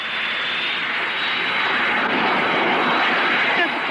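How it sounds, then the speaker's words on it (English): A steady airplane engine drone from a radio drama, a continuous loud roar with a high whine held evenly throughout, as a plane comes in to land. "Does the plane always come down this fast?"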